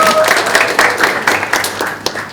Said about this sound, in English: we have to give HDA Design a round of applause.